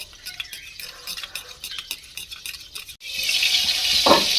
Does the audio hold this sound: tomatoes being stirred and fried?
yes